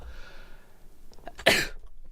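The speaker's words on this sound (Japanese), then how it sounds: "危な、くしゃみ出そう" A single sharp sneeze bursts out near the mic after a quiet moment of faint breathing, loud and abrupt with a quick decay.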